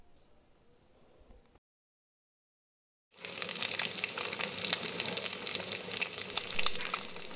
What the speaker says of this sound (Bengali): ডিমগুলোকে এবার আমি হালকা করে ভেজে নেব।